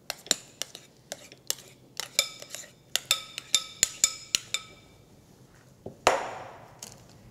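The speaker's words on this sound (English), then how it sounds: "spoon the filling into the base of the pan" A spoon scrapes and taps frozen strawberry sundae filling into a pan, giving a string of sharp, close clicks and knocks at an uneven rhythm, with a longer scraping rasp near the end.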